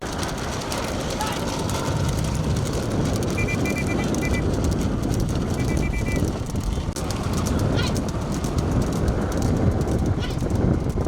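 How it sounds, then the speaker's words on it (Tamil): Horse-drawn carts race along a road at a Krishna Jayanthi festival near Sivaganga, with hooves clattering steadily in dense, loud outdoor noise under a continuous voice. "மாட்டு வண்டி மற்றும் குதிரை வண்டி பந்தயம் நடைபெற்றது"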